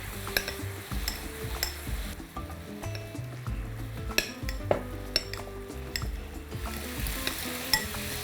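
A fork mashes ripe avocado in a bowl, with repeated clinks and scrapes against the dish over a soft background hiss and no talking.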